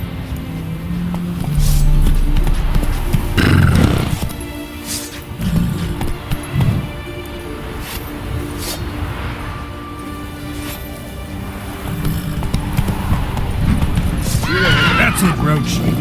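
Roach, a horse in The Witcher 3, whinnies loudly and trots with clip-clopping hooves, while a voice speaks over the hoofbeats and ambient game sound.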